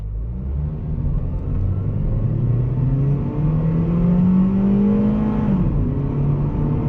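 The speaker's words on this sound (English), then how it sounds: "I think I heard the VTEC kick in." 2006 Honda Civic LX engine revving hard under acceleration, a steady rising drone that climbs in pitch toward a sharper note around the VTEC crossover, then drops off, with road rumble throughout and no talk.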